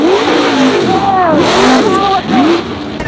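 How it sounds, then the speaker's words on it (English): An 80cc motor fitted to a Walmart bicycle revs hard close by, its pitch sweeping up and down in repeated loud surges over about three seconds. "I got a motor on my bike."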